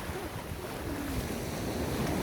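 Ocean waves wash onto a beach at Canggu in Bali, a steady, rushing surf roar with some wind buffeting the microphone, and no voices.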